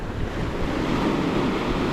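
Sea waves break on Vypin beach near Kochi as a dense, continuous roar of surf mixed with heavy wind rumble against the microphone, loud and close, with no voices.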